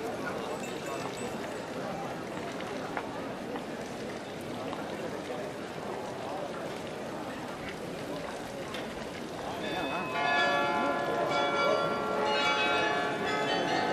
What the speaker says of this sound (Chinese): 主楼的钟响了，到五点了。